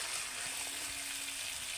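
Raw mango pickle sizzles softly in a pan while being stirred, a steady quiet frying hiss with a few faint scrapes over less than two seconds.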